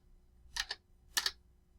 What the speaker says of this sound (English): press the Enter key 2 times